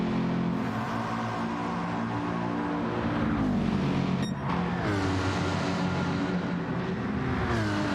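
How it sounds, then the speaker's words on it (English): A Mercedes Group B or Group 4 race car engine in a racing game on a Sardegna rally stage, a loud steady droning roar that rises and dips through gear changes for the whole stretch, with no talking. "Very nice sound from the Mercedes from Yoni"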